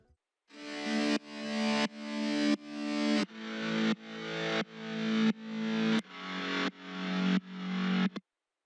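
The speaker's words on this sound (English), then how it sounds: "we have this electric guitar, which is like a sample which I pitched up and down so that it sounds exactly like my chord" A pitched electric guitar sample in a pop production plays chords that pump in a steady rhythmic pulse from sidechain ducking, about eleven swelling hits, each cut short before the next, with no voices.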